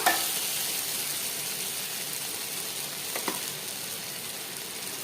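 Potatoes with curry leaves sautéing in a pan give a steady, even sizzle throughout, with a brief stir or scrape partway through.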